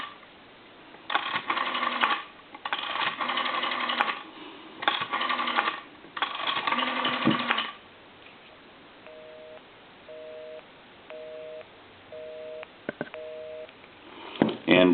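Several bursts of rotary dial clicking on a PTT Holland rotary telephone, then a repeating two-tone busy signal pulsing evenly, with a few faint clicks and a final clatter.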